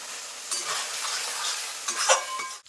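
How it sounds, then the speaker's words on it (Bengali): Ground spice paste for a home-style mutton curry being stirred and fried in oil: a steady sizzle with the scrape and clink of a spoon against the pot, close and without talk. "আমি মশলাটা এরকম নেড়ে চেড়ে একদম কষিয়ে নেবো"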